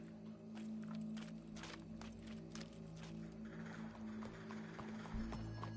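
Horse hooves clip-clopping in Red Dead Redemption 2, a steady run of soft hoof falls at moderate distance over a constant low game ambience, with no talk.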